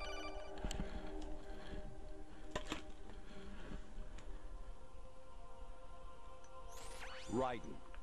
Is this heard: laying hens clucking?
no